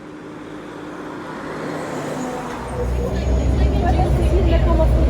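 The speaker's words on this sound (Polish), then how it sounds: "No muszę nagrywać te ciężarówki." Trucks drive past on a road in Costa Rica, a rumbling roadway noise that grows louder and heavier toward the end as a vehicle approaches close by.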